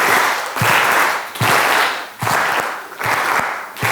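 A school audience claps a practiced rhythm together in unison, four loud, sharp group claps in a steady, evenly spaced pattern, each followed by a short decay, with no talking.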